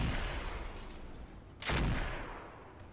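Mech weapons, including PPCs, fire in the Roguetech battle game: a loud sustained barrage of gunfire-like blasts, dipping briefly before a sharp heavy boom that slowly fades.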